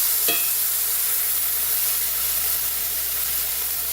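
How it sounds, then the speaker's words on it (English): Two pork chops sizzle in a smoking-hot cast iron pan with olive oil, a loud, continuous frying hiss with a brief clink near the start. "you're going to see this going to start to sizzle very nicely"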